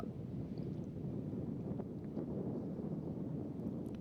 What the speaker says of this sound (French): Un petit peu de vent quand même, on l'entend dans les micros